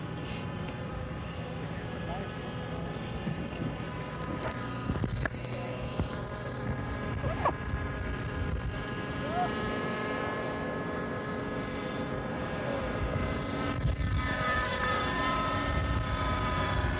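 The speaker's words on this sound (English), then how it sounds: "with a helicopter flying over another, you get downwash off the top helicopter" Radio-controlled model helicopters fly, one above another, at a 1985 RC event, giving a steady whining rotor and engine drone throughout, with faint background noise.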